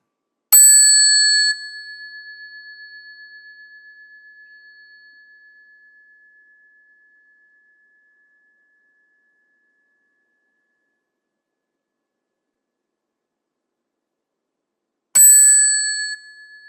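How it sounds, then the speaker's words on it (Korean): A bell is struck once with a bright, pure ring that slowly fades over several seconds into silence, then is struck again near the end. "지금 이제 우리가 종을 땡 쳤어요"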